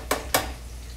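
Pork steaks frying in a deep fryer give off a soft, continuous sizzle, broken by two quick, louder bursts of crackle near the start, likely from pieces being moved or added.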